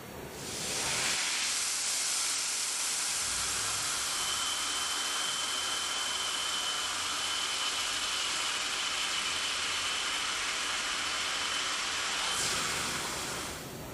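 A Haas CNC machine runs a G-code program, giving a steady loud hiss and whir that starts abruptly, holds evenly for about eleven seconds and then cuts off, with no one talking.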